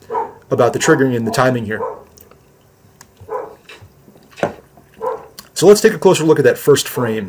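A few sharp dog barks break through now and then behind someone talking almost continuously indoors.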